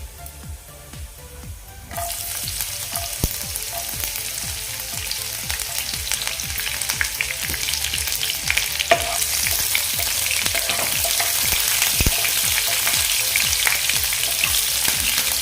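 Cumin and mustard seeds hit hot oil with a sudden loud sizzle, then crackle and pop steadily, the frying growing brighter and busier midway as the seeds bloom.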